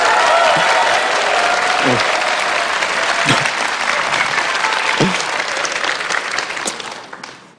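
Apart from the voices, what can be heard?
audience applause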